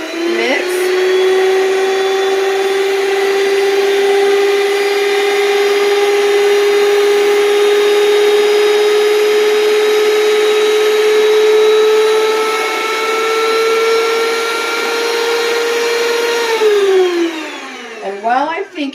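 An electric mixer churns homemade dinner roll dough with a loud, steady motor whine lasting many seconds before winding down at the end.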